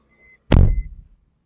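A car door swings shut with a single solid, close thump that decays quickly, heard alone with no talk.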